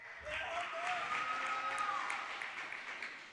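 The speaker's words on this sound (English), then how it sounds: "I think that was a louder applause." Audience applause at an online church event, used to vote for a contest winner; a steady wash of clapping lasts the whole clip at moderate level, with a faint whistle-like tone running through it.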